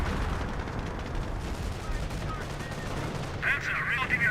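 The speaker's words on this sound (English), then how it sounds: "Ooh, that's actually a rocket barrage," A rocket barrage in the real-time strategy game Company of Heroes, heard as a dense, continuous rumble of launches and explosions with a sharper crackling burst near the end, under ongoing battle noise.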